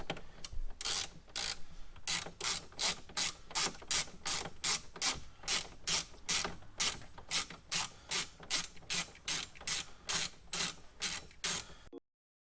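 Ratchet backing out T20 Torx screws inside a Porsche Boxster/Cayman 981, a rapid run of evenly spaced mechanical clicks, close and crisp, continuing steadily for about eleven seconds before stopping abruptly.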